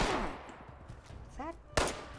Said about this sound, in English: Need 2 heals because they're using hunting rifles.